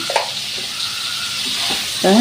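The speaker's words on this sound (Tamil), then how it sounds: "இந்த பன்னீர் வறுத்து எடுக்கிறதுக்கு 3 டீஸ்பூனு எண்ணெய் சேர்த்துருக்கேன்." Paneer cubes fry in about three teaspoons of hot oil for biryani, a steady sizzle broken by a few scraping stirs, close and fairly loud.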